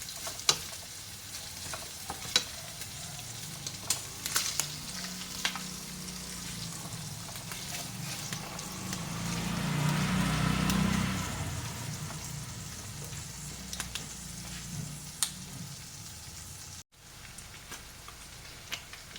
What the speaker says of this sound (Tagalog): Mag-brown lang ng konti lang.